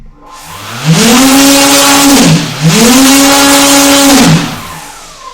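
A KDE5215XF-435 electric motor driven by a VESC controller whines up in pitch twice, a rising tonal scream that dips briefly between two sustained high-speed runs, loud and close with no talking.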